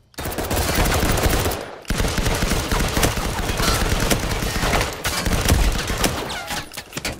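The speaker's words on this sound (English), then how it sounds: "I've been fucking pumping them full of bullets" Sustained automatic gunfire in a tactical shooter game while defending a laptop from hostiles, with loud bursts running almost without pause and two brief gaps.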